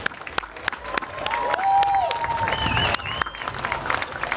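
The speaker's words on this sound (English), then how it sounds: "please join me in giving them a well-deserved round of applause." Crowd applause and some cheering at a Gibraltar Pride awards event, loud sustained clapping with a few whistles and vocal cheers mixed in.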